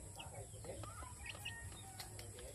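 Chicks and chickens on a Philippine farm give faint, thin peeps and soft clucks over a low, steady background hum, with faint murmuring in the distance.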